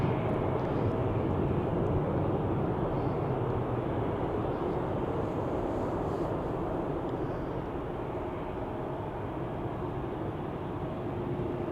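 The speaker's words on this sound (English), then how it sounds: "Here we have Austrian to Vienna, which is a regular Embraer 195, long range no less." Austrian Airlines Embraer 195, long-range version, departing Amsterdam Schiphol for Vienna: a steady, loud broadband jet engine roar holds evenly throughout, easing slightly toward the end.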